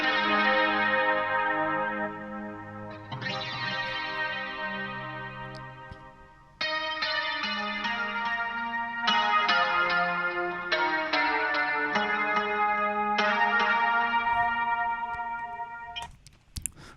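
Layered strummed guitars with no EQ shaping in an 80s synth pop/new wave mix, dense chords ringing in overlapping sections with steady sustain and a sharp dropout near the end, alone without talk.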